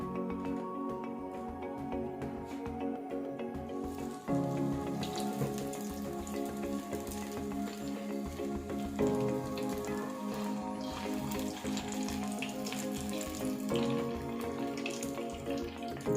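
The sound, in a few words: chicken potato macaroni rolls frying in hot oil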